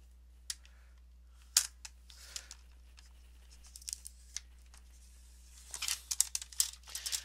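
Paper being trimmed down for a simple handmade booklet: scattered crisp snips and crinkles, a few isolated cuts early on, then a denser burst of quick cutting near the end, close and fairly quiet with no talking.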